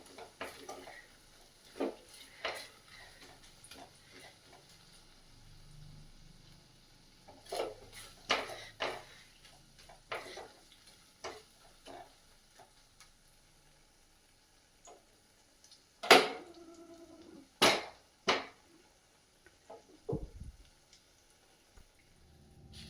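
Dry semolina (suji) is stirred in a pan, with a scattering of soft scrapes and sharper ticks and taps of the spoon against the pan at irregular intervals, quiet and close, with no talking.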